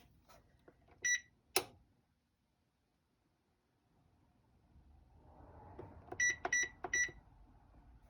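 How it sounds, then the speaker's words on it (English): A kitchen timer being set for 30 minutes, a few short electronic beeps from button presses, then quiet hum and another quick cluster of beeps near the end. "Okay, I'm going to set the timer for 30 minutes."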